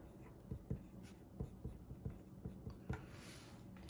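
Pen writing in an Erin Condren A5 Daily Duo planner, a series of soft close scratching strokes in short irregular bursts, quiet and alone.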